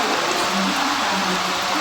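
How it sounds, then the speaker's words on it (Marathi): Heavy rain pours down at Vasai railway station in a dense, steady hiss, loud and close, with no talking. "केवढा जोरात पाऊस आलाय बघू शकता तुम्ही"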